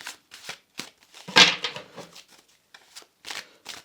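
A tarot card deck is handled and shuffled at close range, with soft flicks and riffles in short bursts and one louder riffle in the middle.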